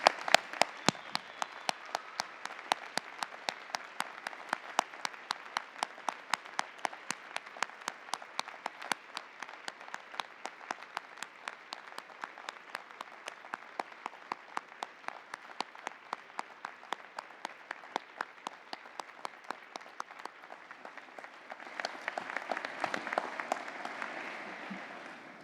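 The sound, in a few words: graduates applauding their supporters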